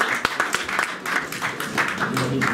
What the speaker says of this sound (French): Surtout, vous pouvez les applaudir